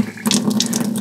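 Water from the spigot of a reverse osmosis system with a booster pump pours in a steady stream with close splashing, over a low constant pump hum, and no voices.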